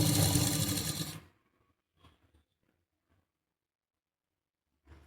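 A sewing machine double-stitches palazzo pants, running in a fast, close, buzzing burst for about a second before it stops. Near silence follows, broken by a few small handling clicks.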